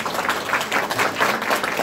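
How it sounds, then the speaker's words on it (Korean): An audience at a food and drug safety forum in a conference hall claps for a professor, a dense, even burst of applause with no pauses. "교수님께 큰 박수 부탁드립니다."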